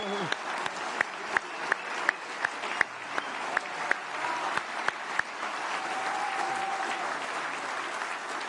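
Steady applause from an audience at a political rally, dense and continuous and moderately distant, with sharper individual claps standing out in an irregular rhythm over the first five seconds before it settles into a smooth wash.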